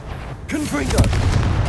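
A Confringo blasting spell goes off in the Hogwarts Legacy game, a sudden booming burst followed by a sustained loud rumbling wash with whooshing magical tones layered over it.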